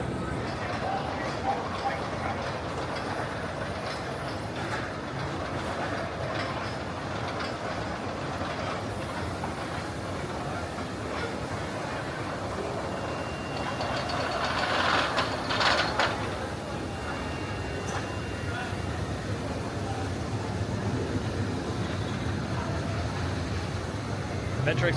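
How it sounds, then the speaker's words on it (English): A rumbling mine train roller coaster clatters along its track continuously, with rattling and rushing noise and a brief louder burst partway through. "So I'm gonna hurry and get on this mine train"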